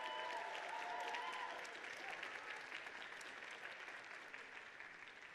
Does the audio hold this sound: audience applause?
yes